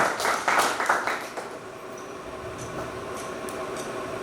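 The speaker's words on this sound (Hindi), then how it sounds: "एक बार तेज बनने के लिए मोहम्मद सईदुर रहमान के लिए तालियां" An audience at a school quiz contest claps for a contestant, a short burst of applause that fades quickly into low room noise.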